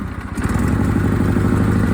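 A 1976 Sears SS16 garden tractor engine idles with a steady, loud mechanical chug, its rough idle surging slightly as it runs close by with no talk.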